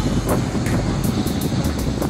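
Steady broadband wind roar buffets the microphone while riding a bicycle with a group on a very windy day, loud and continuous with gusting surges throughout.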